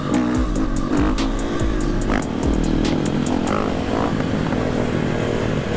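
A KTM 500 EXC-F dirt bike engine revs hard and close, its loud buzzing roar rising and falling in quick bursts of acceleration throughout.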